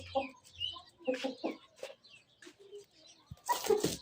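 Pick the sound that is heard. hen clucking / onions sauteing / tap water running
hen clucking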